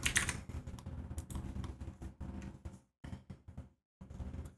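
Fingers typing on a computer keyboard, a close run of quick clicky keystrokes with a couple of brief pauses, no talking.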